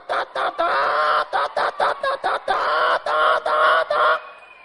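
A man imitates a rooster with his voice, a run of loud, close clucks and crowing calls in quick bursts, ending in a drawn-out crow.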